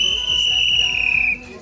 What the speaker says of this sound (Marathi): शिट्टी वाजली.